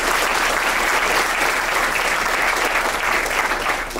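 Sustained, loud applause from a large audience at a university sorority and fraternity probate show, dense steady clapping filling the whole stretch with no break.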